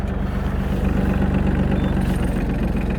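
An Iseki SIAL193 Japanese mini tractor engine runs at a steady idle-like drone, a continuous low rumble close to the microphone while its hydraulics are worked, with no voices.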